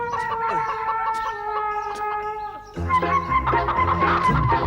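A chicken clucks in a Hindi-dubbed South Indian film scene where a man chases the bird; a steady tonal backdrop fills the first half, then a burst of loud, close clucking and squawks takes over.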